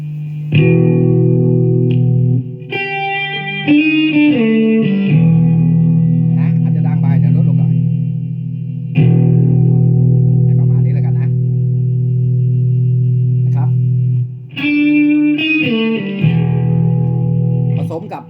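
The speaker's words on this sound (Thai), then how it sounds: "ผมเล่นเสียงแตกนะครับ แตกแบบบลูจูเนียร์" Overdriven electric guitar with a crunchy distortion like a Fender Blues Junior amp, playing sustained chords and short melodic phrases, loud and close with some reverb.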